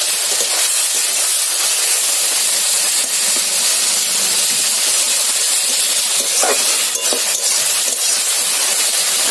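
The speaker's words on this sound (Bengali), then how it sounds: "এইভাবে শাকটা মেরে মেরে ভেজে নেবো" Leafy greens with a pinch of turmeric fry in their own moisture while being pressed in the pan, making a loud, continuous steamy hiss with faint crackles and no talking.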